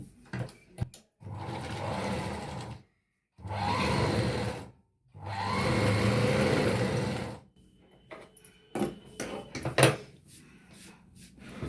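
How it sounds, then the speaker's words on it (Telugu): A sewing machine stitches a kids' frock in three sustained motor runs, close and fairly loud, separated by short pauses and light handling clatter of fabric and parts. "నేను మామూలుగానే స్టిచ్ చేస్తున్నాను"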